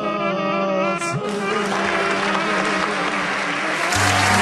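An audience applauds after a song at a 60th birthday concert, dense sustained clapping that is loud and close, with a sustained musical tone lingering underneath.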